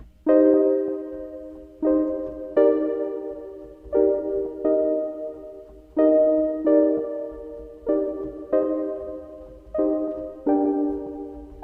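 Block chords in first inversion are struck in a steady, repeating rhythm, each ringing briefly and decaying before the next, moving through a gentle progression.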